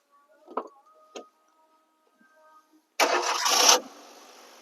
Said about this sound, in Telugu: ఇంజన్ స్టార్ట్ చేయండి.